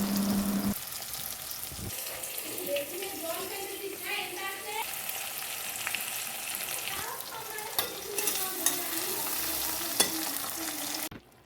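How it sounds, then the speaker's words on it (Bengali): Potatoes fry in hot oil in a home kitchen pan, a steady loud sizzle broken by scraping stirs throughout, with faint voices in the background. "আর এদিকে কিন্তু আলুগুলো ভাজা হচ্ছে"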